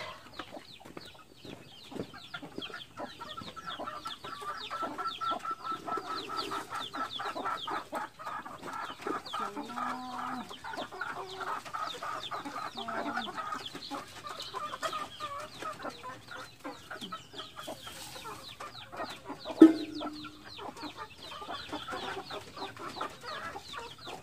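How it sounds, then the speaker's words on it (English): Chickens in a backyard coop keep up soft, scattered clucking and murmuring, a busy low chatter with one brief louder squawk near the end and no voices. "So now I will going to feed my other chicken out there, okay?"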